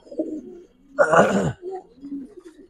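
Pigeons at a pigeon farm give soft, low coos, with one louder, throaty burst in the middle, close by and without talking.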